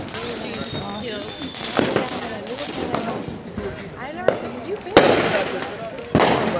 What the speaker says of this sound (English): Oh, you see that? That's fireworks.